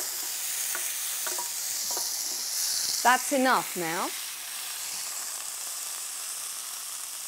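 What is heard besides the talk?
searing seasoned moose meat in a pan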